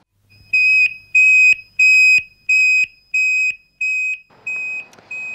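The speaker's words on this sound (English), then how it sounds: "What should you do if the fire alarm sounds?" A home smoke alarm sounds a loud, piercing electronic beep, repeated about seven times in a steady rhythm with short gaps, heard alone with no talking, the last tone fading into a faint hiss.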